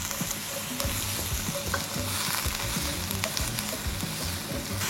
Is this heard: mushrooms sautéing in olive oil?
yes